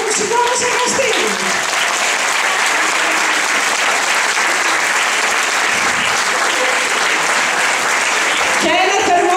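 A packed concert hall gives sustained, dense clapping for a music workshop ensemble, steady throughout, with brief speech at the start and again at the very end.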